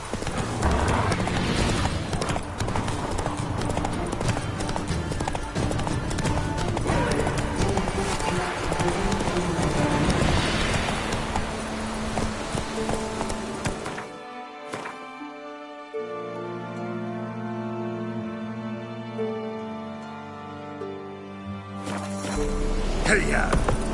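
Roach, a horse in The Witcher 3, gallops with rapid rhythmic hoofbeats, a close clip-clop under a rider's urging voice, then the hooves stop and a tonal musical passage plays before the galloping resumes.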